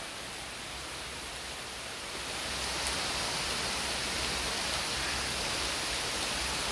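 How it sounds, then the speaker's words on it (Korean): Dense, steady hiss of a heavy tropical rain shower in Vung Tau, Vietnam, growing louder after a couple of seconds and then holding constant, with no voices. "갑자기 비가 이렇게 많이 와버리냐고"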